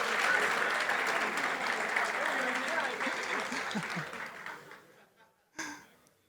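Conference audience applauding at a security talk, a dense burst of clapping with some laughter that fades out, followed by one short final clap.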